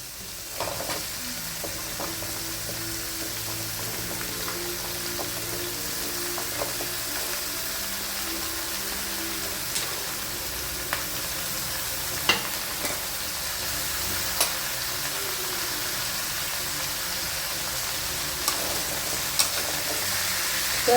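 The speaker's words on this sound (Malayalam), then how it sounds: "ഇതിനകത്തോട്ട് നമുക്ക് കഴുകി അരിഞ്ഞ് വെച്ച് നമ്മുടെ മത്തങ്ങ ഇത് നമുക്ക് ചേർത്ത് കൊടുക്കാം." Pumpkin and onions sauté in a pan with a steady, close sizzle and occasional scraping clicks of the stirring spoon, sounding alone throughout.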